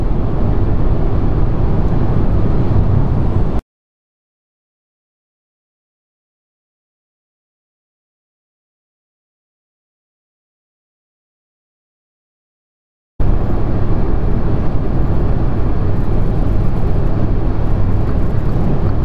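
A VW e-Up electric car drives on the road with a steady roar of tyre and wind noise, cut off by a long silent gap in the middle before the same road noise resumes.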